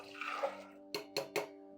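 Soaked peas and water pour into a pressure cooker with a soft, splashy rush lasting under a second, then three quick, close knocks or splashes follow in a short rhythmic burst.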